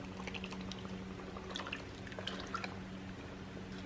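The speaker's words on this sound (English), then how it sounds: "I'm going to pour this all over the roast and the vegetables." McCormick beef stew seasoning mix poured from a bowl over a roast and vegetables in a crock pot, giving soft, faint liquid dribbles and drips over a low background hum.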